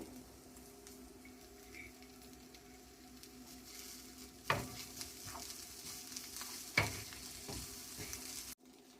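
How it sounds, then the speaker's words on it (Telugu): Green peas being stirred into cooking vegetables in a pan, a quiet, steady sizzle with two sharper scraping knocks of the spoon partway through. "ఇప్పుడు ఇందులోకి ఈ గ్రీన్ బటానీ వేసుకొని కలుపుకుందాం"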